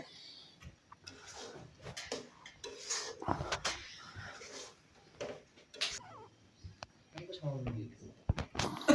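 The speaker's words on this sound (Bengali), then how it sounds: "আমি মাছের মাথাটা দিয়ে দিচ্ছি ভেজে রাখা যে মাথা দিয়ে ভালোভাবে মিশিয়ে নিচ্ছি ডালের সাথে" Fried fish head being stirred into dal in a cooking pot, with scraping clinks of a utensil against the pot, intermittent and close, under a person talking.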